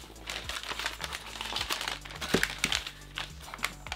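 Vintage C-Toys plastic bags handled up close, giving steady crinkling and rattling with a few sharper rustles and knocks throughout, no talking.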